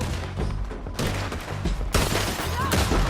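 Loud bursts of gunfire in Red Dead Redemption 2 during a shootout, volleys of shots in uneven clusters with heavy thuds, booming close and dense with only faint voices in the background.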